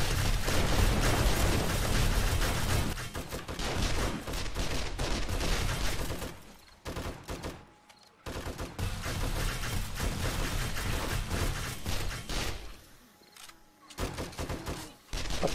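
Turrets firing in 7 Days To Die during a horde night, rapid continuous bursts of gunfire with brief gaps, loud and dense throughout.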